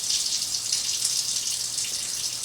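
Warm tap water pours steadily into a kitchen sink while a recipe is being made, a continuous close hiss of running water with no talking.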